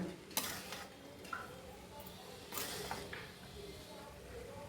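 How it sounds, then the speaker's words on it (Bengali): Chicken fried rice tossed and stirred in a pan, with scraping clinks of a utensil against metal and a soft sizzle running underneath, a few sharper scrapes standing out. "পুরো অনেকক্ষণ ধরেই ভাজবো"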